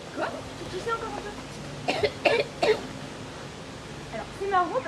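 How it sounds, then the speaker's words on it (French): A person on an outdoor theatre stage coughs in a short burst of three or four close, clipped coughs that resemble a hen's clucking, with talking before and after. "quand vous toussez, on dirait une poule. Le caquettement d'une poule"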